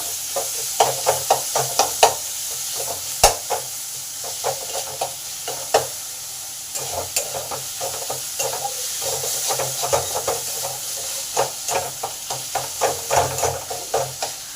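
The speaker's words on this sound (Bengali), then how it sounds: "টমেটো কুচানো আছে সেটা দিয়ে দিলাম টমেটোটাকে ভালো করে কষে নেব যাতে নরম হয়" Chopped tomato sautéing in a pan for pancharatna dal, with a constant hiss of frying under rhythmic, repeated spatula scrapes and knocks, close up and fairly loud.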